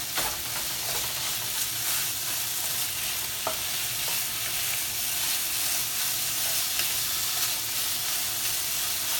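Fish cooking in a pan as a simple laab dish is prepared, giving a steady broadband sizzle that continues evenly throughout, with occasional faint clicks of stirring and no talking.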